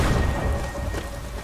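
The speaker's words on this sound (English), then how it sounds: "Lightning bolt." A thunderclap from a lightning bolt in the video game Skyrim rumbles loud and sustained over a steady wash of rain, with no voices present.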